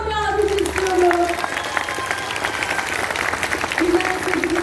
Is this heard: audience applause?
yes